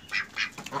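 Ducks on a home farm quack in a few short nasal bursts, close by and clear with no talking over them.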